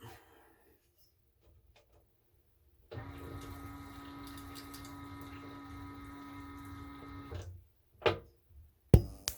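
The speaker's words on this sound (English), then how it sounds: "I'm still pumping water, but it's pumping cold" The small electric water pump of a Costway propane portable shower, running on low batteries, hums steadily for several seconds with a constant tone, then cuts off, followed by a few sharp clicks and knocks.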